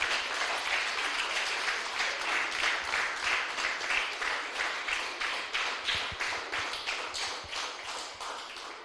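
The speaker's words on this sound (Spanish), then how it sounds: "aleluya, el aplauso" A church congregation claps steadily together in a loud, rhythmic wave of applause that holds for the whole stretch, with pulsing beats and no talking over it.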